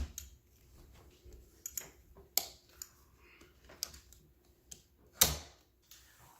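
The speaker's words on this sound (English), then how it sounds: "Slide it in gently. Make sure you hear the clicking sound." Wheels of an Avanti walker being slid into place, giving a handful of sharp, isolated clicks and knocks spaced irregularly in a quiet room.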